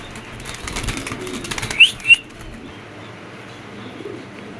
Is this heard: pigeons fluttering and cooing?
yes